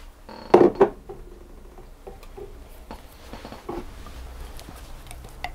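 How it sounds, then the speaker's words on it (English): Caster sugar being whisked with activated yeast, a quick burst of loud clinking strokes at the start followed by lighter, scattered taps and scrapes, close by with no talking. "I'm just going to give that a quick whisk to get that all mixed together."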